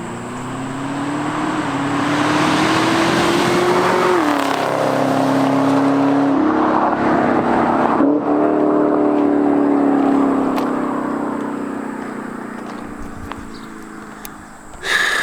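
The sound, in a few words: Camaro ZL1 stock exhaust flyby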